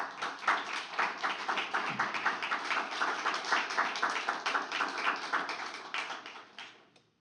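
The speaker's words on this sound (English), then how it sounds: "So please give her a warm round of applause." An audience at a talk on public space and art claps warmly, a dense patter of hands that holds steady for several seconds before thinning and fading out, with no voices over it.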